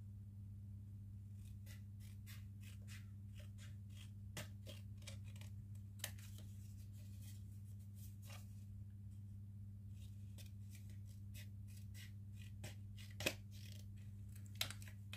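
Scissors cut out a paper address tag in a quiet room, giving soft, irregular snips and paper rustles over a low steady hum, with a couple of slightly sharper clicks near the end.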